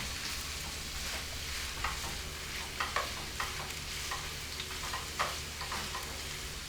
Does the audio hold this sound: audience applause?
no